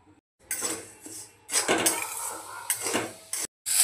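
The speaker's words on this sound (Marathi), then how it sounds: "राहिलेले तांदूळ आता आपण भाजून घेऊया." Rice dry-roasted in a pan for chakli flour is stirred with a metal spoon, giving bursts of scraping and clinking against the pan, separated by short silent gaps.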